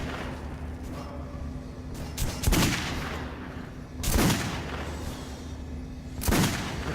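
Gunfire at a shooting range in Metro Last Light Redux: three sharp, loud shots spaced a second or two apart, each with a short echoing tail over a steady low background hum.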